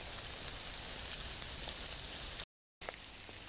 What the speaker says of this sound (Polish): bo przecież tak pada